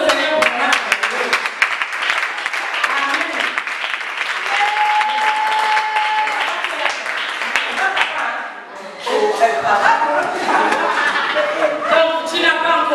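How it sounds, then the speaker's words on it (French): Applause from a church congregation during a French-language worship service, steady clapping and crowd noise over sung or spoken voices that continue under it, dipping briefly before picking up again. "On acclame le Seigneur pour la grâce de Dieu"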